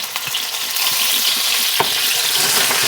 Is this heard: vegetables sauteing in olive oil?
yes